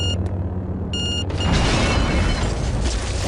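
Loud, sustained rumbling explosions in the Star Wars game Jedi Academy, starting with a few brief tonal game beeps before a broad, roaring blast takes over and keeps thundering without pause.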